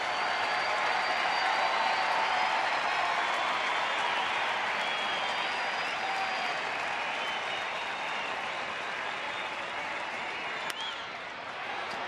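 Crowd noise in a Texas baseball stadium during a Toronto at Texas game on a full count, a broad, steady roar of cheering and scattered clapping that holds loud throughout, easing slightly near the end.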